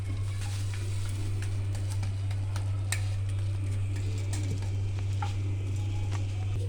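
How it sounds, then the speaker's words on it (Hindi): An egg shami burger patty fries on a tawa with a steady soft sizzle and scattered light ticks and pops, over a constant low hum, with no talking. "ऐसे करके आपने तवे के ऊपर फ्राई कर लेना है"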